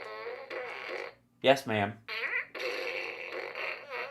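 Comedic fart sound effect mimicking the muffled wah-wah voice of Charlie Brown's teacher, a short burst of loud blubbery tones between lines of close studio talk.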